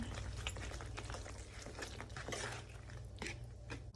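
Meat sauce with parmesan being stirred in a pan over low heat, a soft wet squelching and bubbling with light scrapes throughout, fairly quiet and close.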